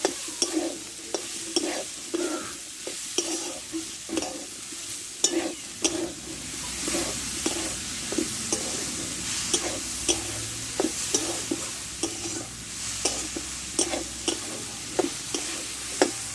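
Jackfruit and potato pieces are stirred and fried together in a pan for a Bengali jackfruit curry, with a steady sizzle under repeated scraping strokes of a spatula at a fairly even rhythm, close and moderately loud.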